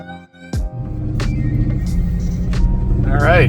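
A 600HP Mercedes E63 AMG sedan pulls away after a sharp starting thump, its deep engine rumble swelling steadily and growing louder to the end; a faint voice-like tone surfaces near the close.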